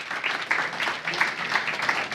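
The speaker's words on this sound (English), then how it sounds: "can we get a big round of applause for Tas Dimos, ladies and gentlemen?" Audience applause at an investor evening, a dense steady wash of clapping from a room full of people, fairly close and continuous.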